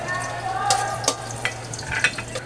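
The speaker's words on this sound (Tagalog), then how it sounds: "Isa-pisain ko yung bawang sa mantika para mas lumasa yung lasa ng garlic." Garlic fries in hot oil in a pan, making a close, steady sizzle with a few sharp crackles and utensil scrapes, and no voices.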